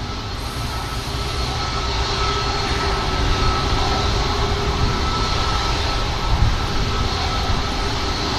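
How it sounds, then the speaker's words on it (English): An Aer Lingus propeller aircraft arrives at Manchester Airport, a steady, broad droning hum that holds at an even level for several seconds, with no talking. "just holding for this next arrival prop aircraft inbound"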